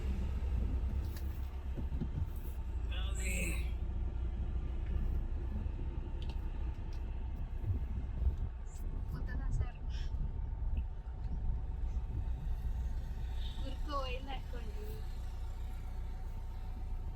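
Low, steady car engine rumble on a rough dirt track in the countryside, continuous throughout with faint scattered bird calls above it and no talk.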